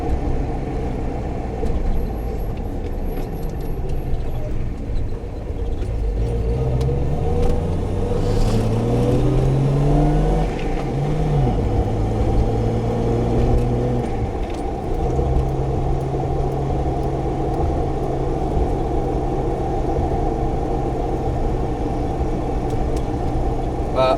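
A Jeep Grand Cherokee ZJ with a swapped AX15 five-speed manual pulls away, its engine note climbing and dropping as it shifts up through the gears, loud and steady with constant road and cabin rumble and no talking.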